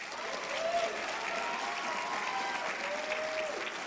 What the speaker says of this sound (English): could we give them a round of applause for that?